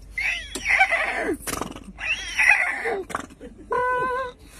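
A young Punjabi man on a train imitates a horse neighing with his mouth, giving several close, loud whinny-like bursts separated by short pauses, followed by a steady tonal mouth sound at the end.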